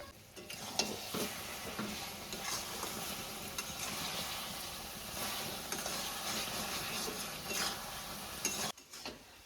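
Pickle (achar) cooking down in a pan gives a dense, continuous sizzle layered with steady stirring scrapes and occasional utensil knocks against the pan, heard close and without talking, ending in a brief clatter.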